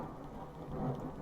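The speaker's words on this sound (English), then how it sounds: "Storm incoming." Steady rain with a low thunder rumble during a storm, broadband wash swelling slightly in loudness toward the middle, heard alone without voices.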